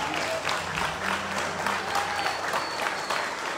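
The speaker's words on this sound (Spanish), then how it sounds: "Vamos a brindarle un fuerte aplauso al gringo Aníbal Ulma." Dense audience applause at a live chamamé show in Ibicuy, Entre Ríos, a continuous wash of many hands clapping at even volume throughout, fairly distant and without voices over it.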